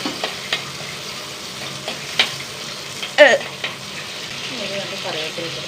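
Small onions and green chili fry in hot oil, giving a steady soft sizzle with sharp pops and crackles, and a spoon stirs and scrapes the pan now and then. Someone talks over the cooking.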